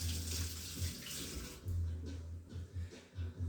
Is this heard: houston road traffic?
no